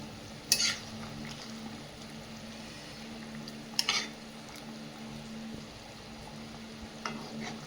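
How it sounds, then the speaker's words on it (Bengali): Fried fish pieces cooking in a pan with papaya, potato and plantain, a steady low sizzle and bubbling with a few louder scraping stirs, near and unaccompanied by speech. "একদম গুনে গুনে 4 পিস মাছ রান্না হচ্ছে দুপুরের মতো"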